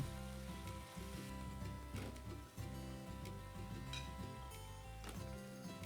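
Sliced potatoes and flat beans frying with ground chili, cumin and coriander in a little water in a pan, a steady soft sizzle with occasional clinks and scrapes of a utensil.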